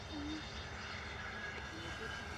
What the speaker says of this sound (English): No reverse thrust at all, fully using the speed brake.